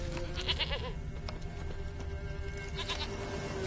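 A goat bleats several times in The Witcher 3: Wild Hunt, with wavering bleats near the start and again toward the end over a steady game ambience.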